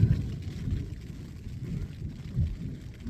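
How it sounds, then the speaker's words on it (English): Strong storm wind buffets a three-season tent propped with a trekking pole, low rumbling gusts surging and easing every second or so, with little rain. "It's not raining much. Just wind and a lot of lightning."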